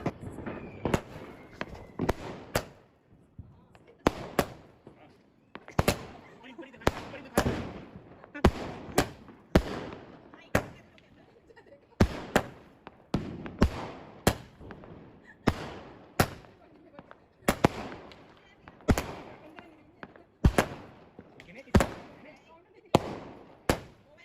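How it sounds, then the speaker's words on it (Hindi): A large 15 Star firecracker bomb set off outdoors during Diwali, heard as a series of sharp, loud bangs repeating irregularly every second or two, with brief voices between blasts. "इसको फोड़ के देखते हैं जरा कैसा है। कितना बड़ा है ये बम।"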